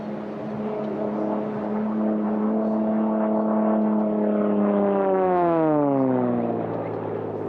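Supercharged and turbocharged race car engines roar past at a Sunday morning race, a loud sustained howl whose pitch sweeps downward as the cars go by.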